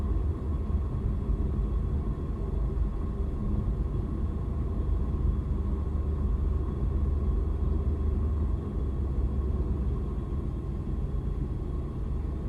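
A Baron G58 twin-engine plane in a flight video game drones at a steady, loud, low rumble with a constant hum that runs unbroken throughout, with no voices.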